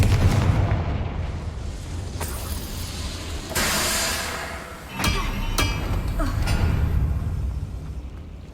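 Confringo blasting spell explosions in the Hogwarts Legacy video game: a dense, continuous roar of booms and bursts with several sharp blasts standing out, thick with game effects and background score.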